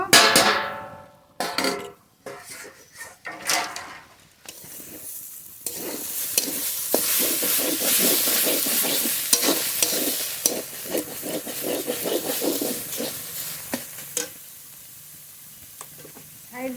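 Greens sizzle and crackle as they are fried and stirred in mustard oil in a pan, with a steady close hiss broken by frequent scraping stirs after a few quieter starts.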